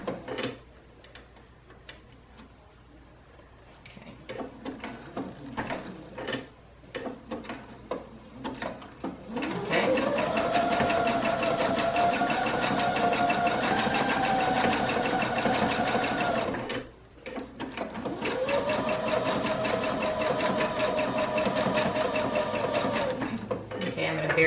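A sewing machine sews a pillow made from a dress shirt in two long, steady runs with a short pause between them, following quieter ticking and handling of the fabric. There is no speech.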